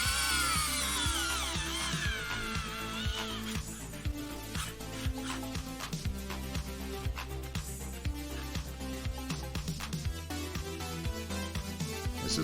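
A small power drill, used while building a model kit, runs close up with a whining motor and repeated short clicking bursts and pulses as it works.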